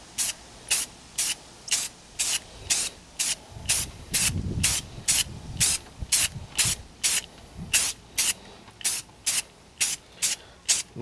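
Rapid short bursts of spray paint hiss from an aerosol can as a coat goes onto the sun-faded rear hatch pillar of a Toyota Sequoia, evenly spaced and close, with faint low handling noise partway through.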